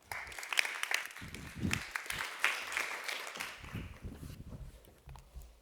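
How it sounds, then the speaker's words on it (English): Audience clapping at a panel event on nature-based water solutions, a steady mid-loud applause from a crowd that rises and fades over several seconds, with no talking. "A round of applause."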